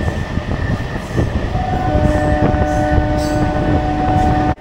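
A Krishnanagar City local train stands at a crowded station platform near Kolkata, its loud steady rumble filling the air with sustained horn-like tones and a few sharp metallic clanks, close and continuous.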